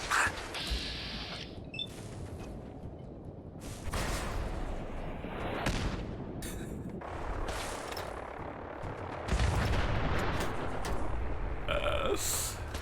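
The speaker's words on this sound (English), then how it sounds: "Why is it so fun to launch missiles at them in back?" Missile launches and explosions in Fallout 4, a run of heavy booming blasts and rumbling bursts, loud and close, with sharp surges near the start, middle and end.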